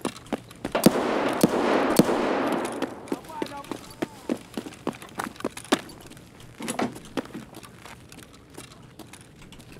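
Pistol shots in the shooter Escape from Tarkov ring out as a series of sharp, separate cracks at an irregular pace over a quiet background, following a short burst of hissing noise, with a voice talking now and then.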